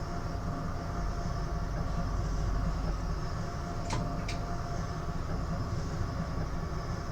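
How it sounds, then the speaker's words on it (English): Steady rumble of an O-Train light rail train rolling along the tracks, with a brief high squeal midway, continuous and fairly close. "This train is actually pretty good, even to when you're stopping and picking up a speed."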